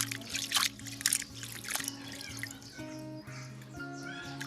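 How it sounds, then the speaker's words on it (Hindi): Dahlia tubers being washed by dunking them in cold water, giving a steady run of splashing, dripping and trickling with irregular louder sloshes near the start, close by. "अब हम इन सभी ट्यूबर्स को अच्छी तरह से साफ़ कर लेंगे पानी में डुबा करके।"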